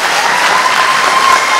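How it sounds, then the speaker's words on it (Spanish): Audience applause for boxers at the close of a professional boxing bout, steady dense clapping filling the whole moment at close range with faint crowd murmur beneath. "estos boxeadores se merecen un fuerte aplauso."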